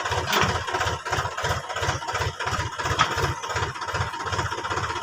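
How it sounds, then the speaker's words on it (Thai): A New Holland tractor fitted with a two-cylinder hydraulic cassava lifter raises a wheel while its engine idles loudly and close, a steady low, pulsing diesel chug throughout. "นี่ครับยกล้อให้ดูเลย"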